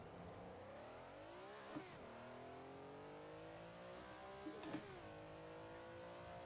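Ferrari race car engine in the Assetto Corsa racing game, revving high through the gears with two sharp drops at upshifts, loud and continuous with no talk.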